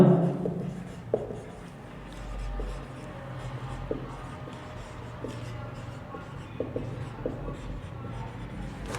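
Writing on a board during a C++ programming lecture: quiet, steady scratching strokes with small taps, continuing for several seconds in a room with faint background noise.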